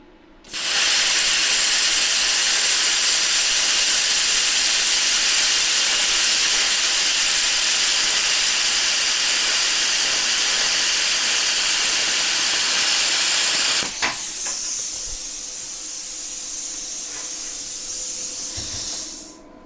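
A BestArc BTC500DP plasma cutter slicing 1/8 inch mild steel flat strap: a loud, steady, hissing roar that holds for about thirteen seconds, then a sharp click and a quieter, thinner hiss trailing off as the cut ends.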